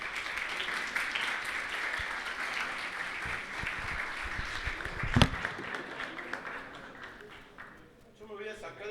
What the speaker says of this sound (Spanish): pido un aplauso grande para ella